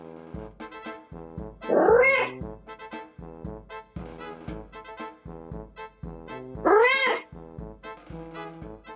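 Cats trading drawn-out meows with two louder, rising caterwauls that signal a fight is about to start, heard close and clear with short pauses between the cries.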